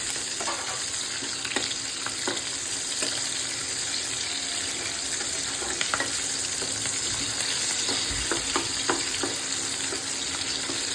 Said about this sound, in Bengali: এখন আমি এটার ভেতরে পেঁয়াজ কুচি দিয়ে দেবো আর লঙ্কা কুচি দিয়ে দিলাম, ভাজা ভাজা হবে